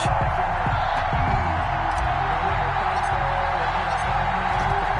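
A video game stadium crowd in an American football matchup between the Las Vegas Raiders and the Cleveland Browns roars and cheers in a steady, dense wash, with a low rumble and occasional whoops.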